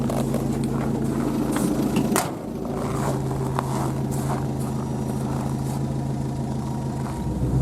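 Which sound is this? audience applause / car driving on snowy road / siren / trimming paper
car driving on snowy road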